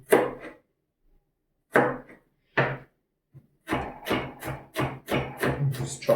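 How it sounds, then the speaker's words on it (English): Knife slicing chicken on a wooden board, a handful of isolated thuds followed by a quicker run of regular chopping knocks, close and clear. "So what I'll do is just slice halfway, get little cuts in between"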